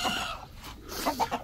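Chickens and roosters cluck in short, close bursts, a few quick clucks rising near the end, with faint farmyard background in a village.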